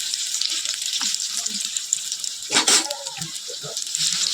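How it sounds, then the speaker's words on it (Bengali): Shrimp and potato chops frying in oil give a steady bright sizzle, with soft scraping and clinks from turning them partway through, at close range and without talk. "এবার আমি তেলে ফ্রাই করব।"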